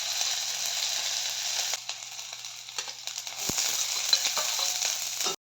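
Onion, ginger and garlic frying in oil in a wok give off a steady, close hiss and sizzle with occasional stirring scrapes, running continuously before cutting off abruptly.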